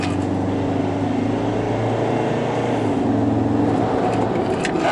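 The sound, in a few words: Mazda BT-50 diesel pickup engine accelerating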